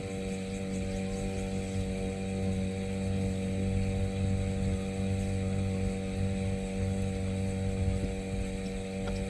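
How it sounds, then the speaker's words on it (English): An Endeavor 32 sailboat motoring with the sail up, its engine giving a steady, droning hum with a constant low throb throughout and no talk. "Just motoring along with the sail up."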